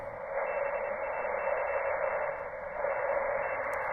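A ham radio receiver tuned on the 30 meter band for a QRP POTA activation, giving a steady, loud band of static-like hiss with a faint tone above it and no talking.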